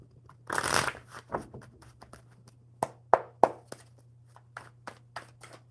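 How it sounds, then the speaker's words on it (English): A deck of playing cards is riffle-shuffled at a table, one burst of flapping cards followed by several sharp taps and squaring knocks, close and fairly quiet over a low electrical hum. "One more good shuffle for Daniel."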